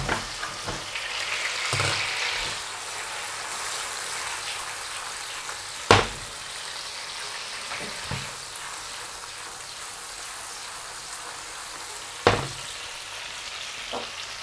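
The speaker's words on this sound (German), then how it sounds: "bevor uns der Knoblauch jetzt anbrennt, löschen wir das mit einer Kelle Nudelwasser ab" Garlic sizzles steadily in a pan and is deglazed with a ladle of pasta water while cooking spaghetti with prawns, a continuous close frying hiss broken by a few sharp clanks of utensils against the pan.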